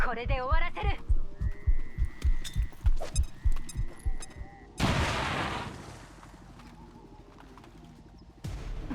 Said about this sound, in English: Ulrich opens with a grenade.